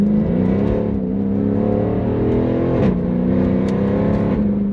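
A Mercedes C63 AMG (W204) V8 runs close and loud, steady engine tone dipping and rising again as it downshifts, with a brief blip near the end and no voices.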